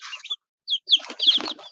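Adult chickens and roosters in a backyard pen, a few close, loud clucks and squawks in short bursts.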